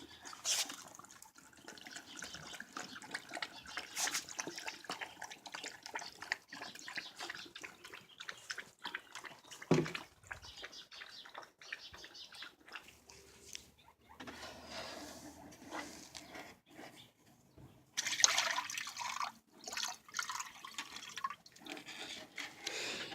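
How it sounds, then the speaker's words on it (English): Water trickles and splashes steadily into a pet's water bowl, with dripping and brief bursts of louder pouring, no voices. "I just went ahead and filled up the water bowl"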